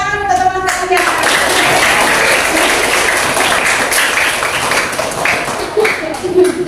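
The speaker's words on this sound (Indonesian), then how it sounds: "Beri tepuk tangan untuk teman-teman ya." Schoolchildren in a classroom clap together for their classmates, a loud, close burst of lively applause that starts after a brief voice and continues steadily, with a few voices faintly mixed in.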